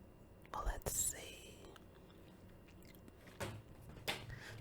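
Close bites and chewing on a crispy walnut chocolate chip cookie, a few crunchy snaps spaced apart with soft mouth sounds in between, mixed with quiet whispering.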